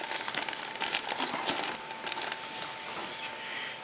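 A sealed plastic bag holding vintage toy tank treads crinkles and rustles close up, with steady handling crackle throughout and a faint background tone.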